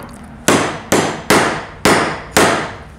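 Five sharp, loud blunt strikes against an acrylic two-way mirror, evenly spaced about half a second apart, each a hard knock with a short ringing tail and no voices.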